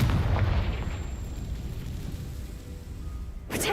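A Confringo blasting spell explodes in the Hogwarts Legacy video game: a heavy burst that rumbles and fades over a few seconds, then a second sharp blast right at the end.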